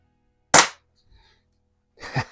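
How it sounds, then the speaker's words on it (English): Flat nose pellets from an Air Venturi Comp 10 air rifle strike and splatter paintballs: one sharp, loud crack followed by a faint patter, then a few softer knocks. "I like the way these flat nose pellets make those paintballs splatter"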